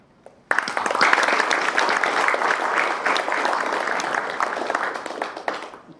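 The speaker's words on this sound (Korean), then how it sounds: "박재영 교수님께 축하의 박수를 보냅니다" A large audience at a Korea University alumni journalists' anniversary and awards ceremony bursts into loud applause for a professor, with dense clapping starting abruptly and holding steady before cutting off.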